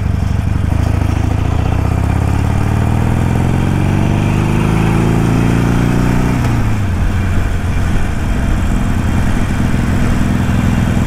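A Harley-Davidson Iron 883 motorcycle engine drones steadily throughout, its pitch rising as it revs up and then dropping, with constant wind and road noise close by.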